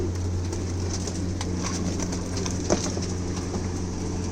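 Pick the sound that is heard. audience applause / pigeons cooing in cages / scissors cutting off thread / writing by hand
pigeons cooing in cages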